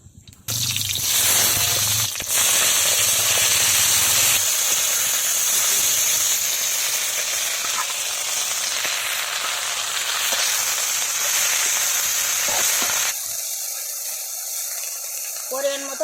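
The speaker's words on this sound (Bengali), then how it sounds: "কড়াইতে তেল দিয়ে দেবো। ফোড়নে দেব কালো জিরা, কটা রসুন, কাঁচা লঙ্কা" Black cumin, garlic and green chilli sizzling in hot oil in a kadai, a loud steady crackling hiss that runs on for many seconds before settling to a quieter simmer.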